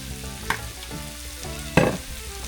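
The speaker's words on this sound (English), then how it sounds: "And then we're just going to start stirring that in" Flour is stirred into softened vegetables in a hot pan to build a roux for onion gravy. A spoon scrapes through it at close range under a low sizzle, with two sharper scrapes standing out.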